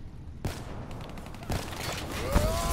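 Gunfire in a Call of Duty Black Ops 3 multiplayer match: a loud sharp shot opens a stretch of rapid automatic fire with several distinct bursts, ending in a punchy report over a dense game soundscape.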